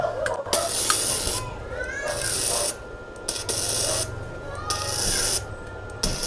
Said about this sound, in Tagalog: Hindi na kailangan ng welding rod. Ito yung Fujima Enrilon MIG welding machine.